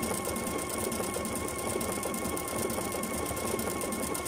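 A Pfaff Performance Icon sewing machine stitches steadily at close range, its motor whirring in an even, continuous hum with a fast mechanical needle rhythm and no talk over it.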